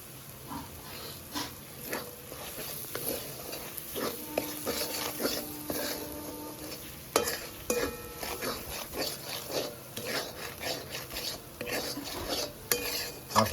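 Spoon stirring a turmeric and cumin paste masala in a pan for a potato and paneer curry with capsicum, steady scraping and clinking strokes over a soft continuous sizzle, close and fairly quiet, with no talking.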